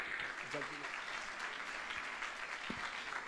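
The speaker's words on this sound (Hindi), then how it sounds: "आइए हाथों को उठाकर जोरदार तालियों में।" A church congregation at a Sunday prayer service applauds with steady, dense clapping throughout, a continuous wash of many hands with a few brief voices rising over it.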